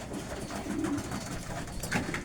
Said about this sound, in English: This is where I keep the stock birds, or the couple cock birds that I have